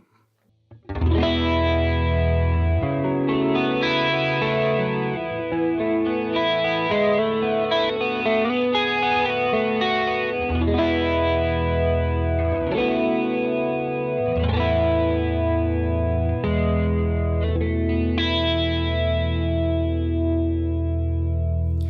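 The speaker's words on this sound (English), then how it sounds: "So here is a chorus sound." An electric guitar runs through a chorus effect from a Line 6 HX One pedal, playing sustained, shimmering chords and arpeggiated notes with a wide, swirling tone for over twenty seconds, no talking.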